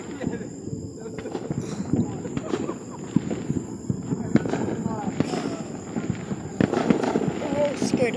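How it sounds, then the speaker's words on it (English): Fireworks explode in a rapid series of sharp, loud bangs and crackles at irregular intervals, with a burst of several near the end and voices in the background. "I'm really scared of fireworks."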